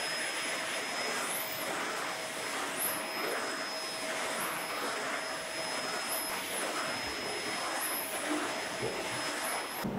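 A vacuum cleaner runs steadily during room cleaning in an apartment in Vientiane, Laos, giving a loud, continuous broadband whoosh with a faint periodic swell throughout.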